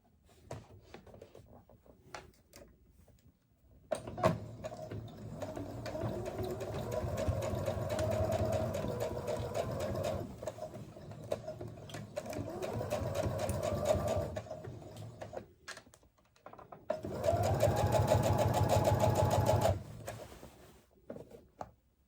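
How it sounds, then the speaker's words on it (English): A sewing machine stitches a seam in fabric with a ½ inch seam allowance, running in three long steady whirring bursts separated by short pauses, close and clear with no talking. "I'm starting in the middle and I'm going to sew all the way with a ½ inch seam allowance"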